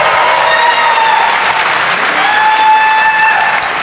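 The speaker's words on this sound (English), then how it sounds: "Why are you cheering?" A crowd at a live political comedy show cheers and applauds loudly for a few seconds, a dense wash of clapping with bright whoops and shouts rising over it, close and sustained.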